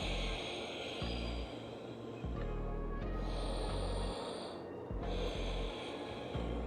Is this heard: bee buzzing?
no